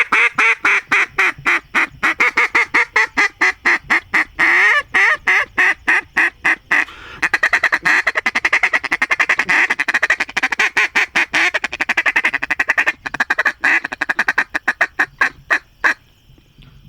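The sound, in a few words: RM duck call sequence imitating duck quacks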